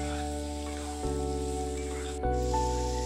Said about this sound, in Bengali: এবার আলুটা ভালোভাবে ভেজে নেব।